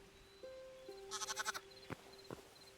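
Sheep in the video game Hytale give a short run of wavering bleats, then a couple of brief separate calls, fairly close over soft game ambience and a faint tonal beep, with no talking.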